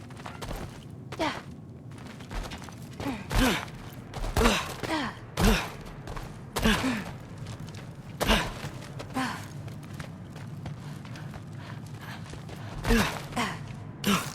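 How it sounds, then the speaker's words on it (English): Heavy, slow breathing from something lurking at the back of a dark cellar in God of War Ragnarok, a series of close, gasping breaths and sighs at an irregular pace with faint shuffling. "I think I can hear something breathing near the back of the cellar"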